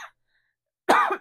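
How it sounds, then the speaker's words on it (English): A single close, harsh cough after near silence, brief and throaty. "Excuse me, I'm going to cough."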